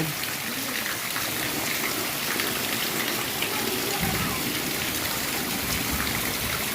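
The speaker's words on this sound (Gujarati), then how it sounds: "વરસાદ આવે છે, બહુ મુસળધાર આવે અને બંધ થાય" Heavy monsoon downpour pours in a dense, constant roar with no break, close and loud throughout.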